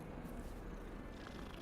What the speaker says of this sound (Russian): Ничего себе, как мяукает.